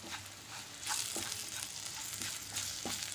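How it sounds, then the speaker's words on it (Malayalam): Soya chunks sautéing in a pan with chilli powder and garam masala, a steady close sizzle broken by a few scraping stirs of a spoon, with no voices. "നല്ലതുപോലെ നമുക്ക് വഴറ്റിയെടുക്കാം"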